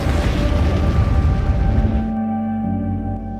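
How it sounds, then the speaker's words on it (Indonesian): Large explosion of landmines in the war film Land of Mine (2015): a loud, broad rumbling blast roars for about two seconds, then cuts abruptly to sustained, quieter music tones. "terjadi ledakan yang begitu besar."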